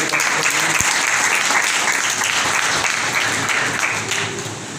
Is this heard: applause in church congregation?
yes